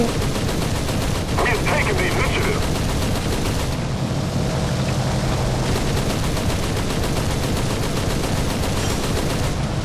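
Sustained bursts of aircraft machine-gun fire in the combat game War Thunder, loud and continuous with a rapid rattling rhythm over a steady roar of engine noise.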